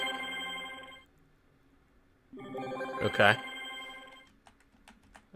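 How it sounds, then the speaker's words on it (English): A telephone ringing in a video game cutscene, a tonal ring that stops, then resumes with a brief spoken word over it, moderately loud and close. "My phone is ringing."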